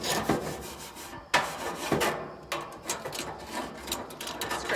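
Metal scraper raking across a hot grill grate, a series of loud rough rasping strokes in an uneven rhythm, close by, with no talking.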